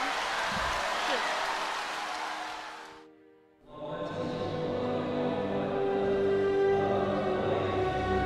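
A table tennis crowd rises to its feet in loud, dense applause for a left-handed rally shot; the roar dips briefly, then swells back and continues under a commentator's voice.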